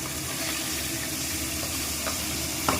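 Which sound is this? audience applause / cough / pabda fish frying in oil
pabda fish frying in oil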